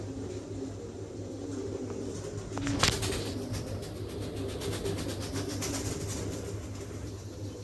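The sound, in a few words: pigeons, Andalusian male and checker female, cooing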